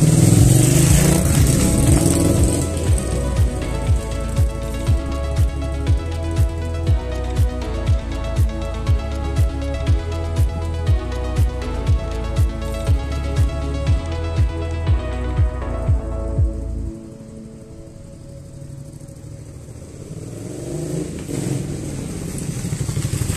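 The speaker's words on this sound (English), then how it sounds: "this little bit here where you just hear engine noise" Suzuki SV650 motorcycle engine running steadily with a lumpy, pulsing beat while being maneuvered in a narrow space, close and loud, then dropping to a quieter idle for the last few seconds.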